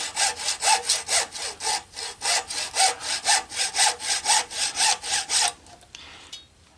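A hand saw cuts through a clothes dryer in about twenty quick, even back-and-forth rasping strokes close by, then stops with a brief clatter.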